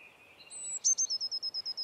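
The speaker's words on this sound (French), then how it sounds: "Un mésange bleu." Blue tit calling outdoors, a thin high note followed by a fast, evenly spaced run of about nine sharp repeated calls, close and clear over near silence.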